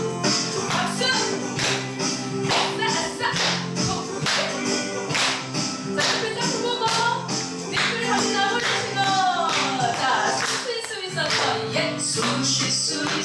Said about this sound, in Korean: 자, 박수 한번 쳐보세요.